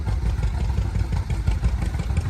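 A Ford Workmaster 601 tractor running in a tractor parade, its engine giving a close, steady low chugging idle with faint clatter throughout.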